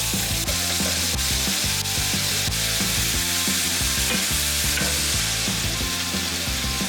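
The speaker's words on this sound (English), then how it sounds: "Browning chicken for the win" Chicken browning in a hot cast iron pan, a loud continuous sizzle and crackle with occasional pops and stirring scrapes, close up with no voices.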